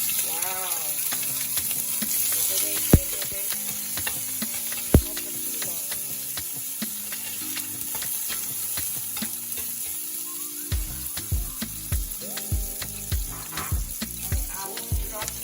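Garlic and onion frying in a pan with very little oil, a steady sizzle running throughout alongside scraping stirs and a few sharp clinks, with some tonal clatter in the background.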